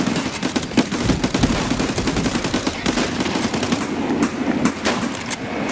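Sustained, rapid automatic gunfire and overlapping shots ring out continuously in a multiplayer shooter game set on the Reserve map, loud and dense from start to finish.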